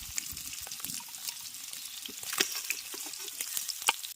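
Dry chili and onion frying in hot oil in a pan, a steady close sizzle with crackles and occasional stirring scrapes, no voices.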